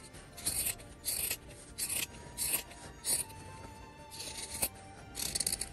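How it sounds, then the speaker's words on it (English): Scissors snip repeatedly through fabric being trimmed for an oval fabric basket, with crisp, evenly spaced cuts up close, mixed with soft rubbing of the material and no talking. "I'm gonna go and trim around."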